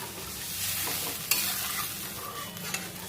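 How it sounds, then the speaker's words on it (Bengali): Spice paste fries and gets stirred in a pan with a little water and oil while making a katla fish and vegetable curry, a close, continuous sizzle with light scraping of the spoon. "সামান্য জল দিয়ে মশলা কষে নিচ্ছি"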